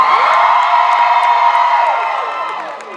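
Convention panel audience of Supernatural fans screaming, whooping and cheering together, a loud sustained crowd roar that slowly tapers toward the end.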